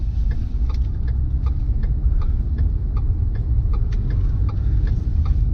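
A car drives through the center of a Jersey Shore town in Point Pleasant, its steady low engine and road rumble heard from inside, with a faint repeating tick over it.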